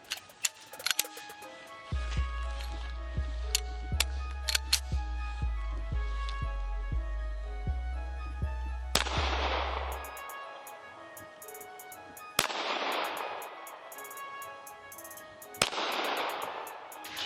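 Sharp gunshots ring out three times at spaced intervals, each with a long echoing tail, after a stretch of low steady hum and light clicks; these include the first round fired from a cold gun with nothing through it yet.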